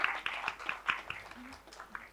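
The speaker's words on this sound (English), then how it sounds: "Give them a round of applause." Applause for a two-person quiz team at a regional postgraduate quiz round, a scattering of sharp, irregular claps close by that fade out over about two seconds.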